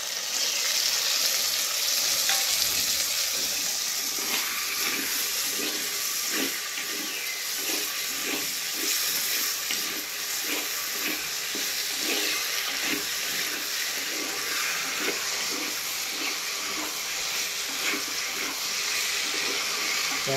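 Spices sizzle and fry in a pan for a kochu (taro stolon) curry, a continuous crackling hiss that stays steady throughout, with faint stirring textures and no voices.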